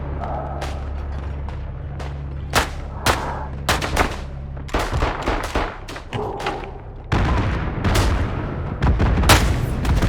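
Rifle gunshots from the World War I shooter Isonzo on the Italian Monte Cengio map, a series of sharp, loud cracks at irregular intervals over a steady low rumble of battle, with more distant shots and booms between them.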